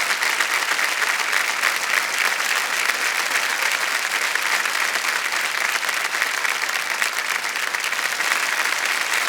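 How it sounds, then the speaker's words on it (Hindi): Loud, sustained applause from a studio audience on the Hindi quiz show Kaun Banega Crorepati, steady dense clapping throughout with no talk. "तालियां बजना जोरदार"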